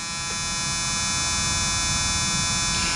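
An expensive electric hair trimmer, missing the spring found on other brands, runs continuously with a steady close-up buzz and a dense whine that holds level and unbroken the whole time.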